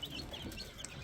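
Chickens inside a loose housing coop wrapped in bubble wrap give soft, faint clucks over a steady low hum, with no one talking.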